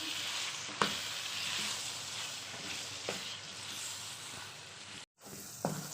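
Spices with red chilli and cumin sizzle with minced meat for keema kachnar in a pan, a steady close hiss broken by a few sharp stirring clinks and one brief cutout.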